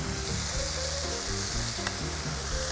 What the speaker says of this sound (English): I'm gonna bring my turkey confit in, and we're gonna start crisping this up again.